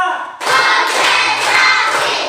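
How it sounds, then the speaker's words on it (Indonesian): Hand clapping during a group clapping ice-breaker game in a classroom: a brief sound, then a burst of many hands clapping together in a loud, dense, crackling wash that lasts about two seconds. "tepuk 1, tepuk 2, tepuk 3, tepuk 4"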